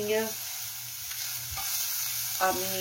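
Garlic sweats gently in a pan for a risotto, a soft steady sizzle under brief stirring scrapes, with faint clinks at the start and near the end.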